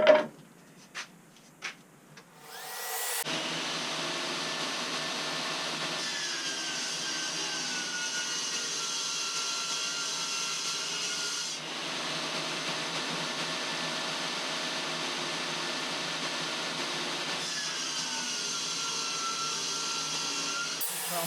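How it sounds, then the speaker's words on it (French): Transparent plexiglass sheet being cut with a power tool to trim 2 cm off for an LED light frame, a steady loud whining cut running continuously after a few brief knocks, with a short dip partway through. "ce plexiglas là qu'on m'a donné, il se coupe vachement mieux que celui que j'avais eu"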